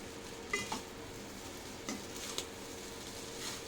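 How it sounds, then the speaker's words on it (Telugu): Egg fried rice with salt is stirred in a pan, a spatula scraping and clinking a few times over a faint sizzle, quiet and close. "ఈ సాల్ట్ వేసేసి మనకి కింద నుంచి ఎగ్స్ ఆల్రెడీ మనకి ఫ్రై అయి ఉన్నాయి కదా, ఇప్పుడు మొత్తాన్ని ఒకసారి కలిపేసుకుందాం"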